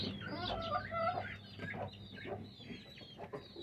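Hen clucking on a rooftop, with a run of close, soft, irregular clucks and low grumbles over a faint background hum.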